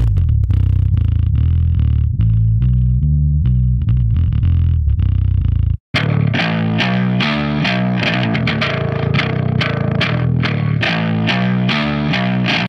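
A heavily distorted bass guitar plays a low, chugging riff, then cuts out briefly and comes back fuller and grittier with sharper note attacks.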